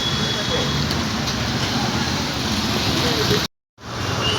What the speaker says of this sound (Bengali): বৃষ্টি শুরু হয়ে গেল আবার